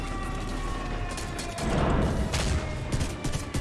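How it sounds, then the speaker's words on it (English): Green minigun enemies firing in The Division 2 during the Iron Horse raid boss fight, a dense rattling burst that swells midway and keeps going, with no talk over it. "This time you've got green miniguns to worry about as well. You can actually just hear one behind me shooting."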